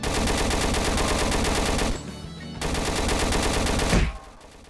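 Sustained automatic gunfire in the video game Roblox, a loud continuous stream of shots that breaks off briefly, resumes, then stops.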